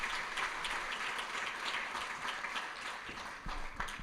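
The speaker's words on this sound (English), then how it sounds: "Give them a big round of applause, please." Moderate applause from a panel audience, many hands clapping in a steady, somewhat distant patter that holds without break, with a few louder individual claps near the end.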